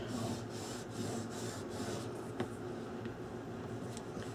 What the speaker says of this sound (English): Make sure we burnish in to our fold line of the book, both sides, very gently